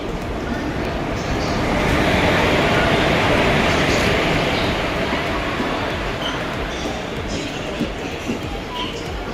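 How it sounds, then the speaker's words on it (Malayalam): The Guruvayur Express passes by as a loud, continuous rail rumble. It swells to a peak early on, then holds steady and eases slightly as the train rolls through. "ഒരു ഗുരുവായൂർ എക്സ്പ്രസ് കണ്ടു പോകുന്നു"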